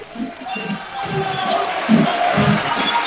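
A crowd at the public opening of a cinema-theatre, a steady mass of clapping and cheering with voices mixed in, moderately loud and continuous.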